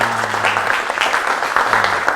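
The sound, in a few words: classroom applause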